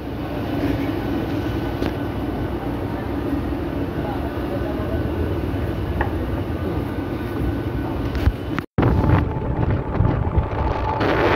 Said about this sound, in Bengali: ট্রেন আমাদের ঢুকছে।